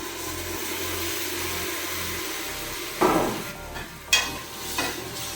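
Masala for egg biryani frying in a pan with a steady low sizzle, then curd added and stirred in, bringing a few louder splashy scrapes near the end.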